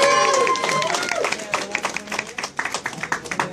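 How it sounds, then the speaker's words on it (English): Audience at an outdoor expo seminar bursts into applause, with dense clapping and cheering under a voice at the start, thinning into scattered claps by the end. "Give us a big round of applause here."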